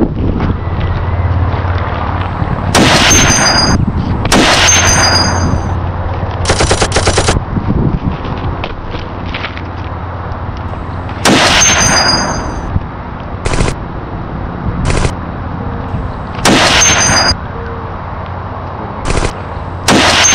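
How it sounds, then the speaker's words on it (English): Gunfire in a real-life re-creation of the Army of Two game: repeated loud bursts of rapid machine-gun fire, fired in several separate volleys with short pauses between them over steady outdoor background noise. "You keep firing, I'm gonna go get more aggro."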